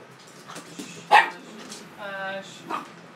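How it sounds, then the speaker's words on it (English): Dogs bark at neighbors or squirrels indoors, a few sharp barks and a yip scattered among a whimpering, drawn-out whine, moderately close, with a person talking intermittently. "that's the dogs barking at the neighbors or the squirrels or the kids outside doing something"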